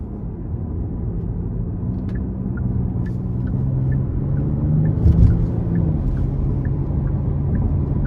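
A 2023 Genesis G80 Sport Prestige with a 3.5 twin-turbo V6 pulls hard in Sport Plus mode, a loud steady low engine drone and rumble rising slightly, heard from inside the cabin without talking.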